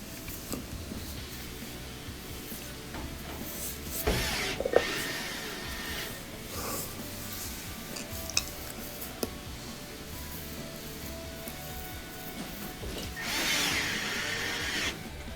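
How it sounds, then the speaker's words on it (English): Screws driven into the front panel of a Frigidaire dryer with a power tool, giving several bursts of whirring and grinding with occasional sharp clicks over a steady background noise, close by. "So we're just putting in a few more screws here to hold on the front panel"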